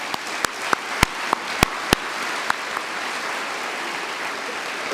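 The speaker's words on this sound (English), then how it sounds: "Let's please give them a round of applause." Scattered applause from a high school senior assembly audience for the student orchestra, a thin steady patter with a few sharp, louder individual claps standing out early on.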